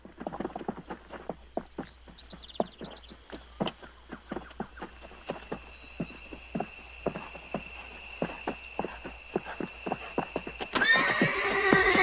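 A skittish horse in thick jungle underbrush gives several high, wavering neighs over a steady, close clip-clop of hooves that grows busier and louder near the end.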